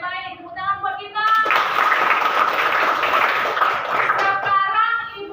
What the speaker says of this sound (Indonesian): Oke baik, tepuk tangan buat kita.